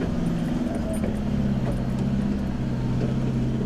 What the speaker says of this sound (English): the tyres just fighting for grip